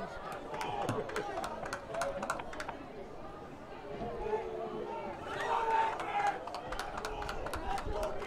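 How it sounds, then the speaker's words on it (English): Fans at a high school football game between OLOL and St. James cheer and chatter in a broad, fairly distant crowd swell, with rhythmic claps or stomps pulsing through, growing louder midway. "Crowd's getting into it now."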